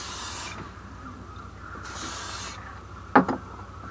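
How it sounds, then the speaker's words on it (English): Two short hissing bursts of spray hit a knife sharpening block, followed by a quick rubbing scrape, in an otherwise quiet setting. "A little bit of spray."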